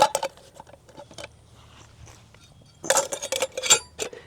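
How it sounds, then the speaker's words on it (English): A metal camping cook pot being handled and packed, with loud bursts of clinking and clattering at the start and again near the end, separated by quieter shuffling. "I usually just use this pot to cook with"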